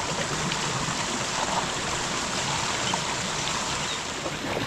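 Water pours steadily over a small fall on the Río Verde near Otívar, Granada, a dense, constant rushing wash with no breaks.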